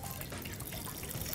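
Water poured over glutinous rice in a pot, a continuous splashing, trickling pour that stays close and steady throughout, with no talk.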